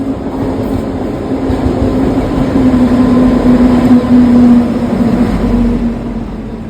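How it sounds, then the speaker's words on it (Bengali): The Bhagirathi Express pulls into a station with a continuous heavy rumble and rolling wheel noise and a steady tonal whine, swelling toward the middle and easing off at the end, with no voices. "ট্রেন ঢুকছে ভাগীরথী এক্সপ্রেস।"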